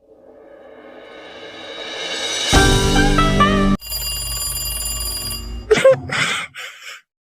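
A ringtone-style phone ring builds up, then switches to louder electronic tones with a sudden cut and short bursts at the end; no talking.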